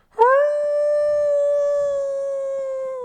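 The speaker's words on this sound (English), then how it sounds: "Judas howls with righteous determination" A character howls in the Middara video game, a single loud, sustained canine-like howl holding steady for about three seconds, alone with no talk over it.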